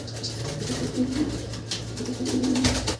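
Jet-black pigeons kept for sale coo in a few soft, repeated throaty phrases at moderate distance, with light background noise around them.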